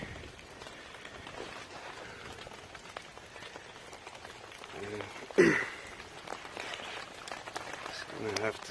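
Rain falls steadily on plants under covers outdoors, a soft continuous patter throughout with a brief louder rustle partway through.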